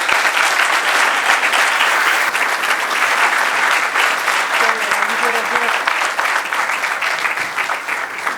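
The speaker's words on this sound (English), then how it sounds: "another round of applause for a great" Sustained audience applause after a keynote speech at the DEEP DAY '17 event, dense and loud clapping continuing steadily throughout with a faint voice briefly audible beneath it.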